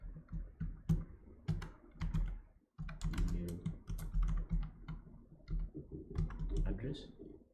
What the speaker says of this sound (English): I'm going to type email address